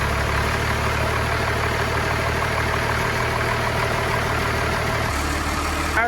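A Cummins diesel swapped into a 1969 Dodge D200 Sweptline pickup runs with a steady, loud, rough idle that continues throughout. Near the end the low drone drops in pitch.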